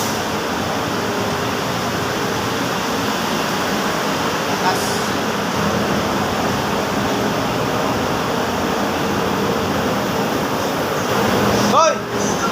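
A strong rush of water pours below, a steady loud broadband roar that runs unbroken throughout, with a brief sharp knock near the end.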